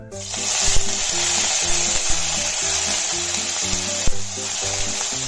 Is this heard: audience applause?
no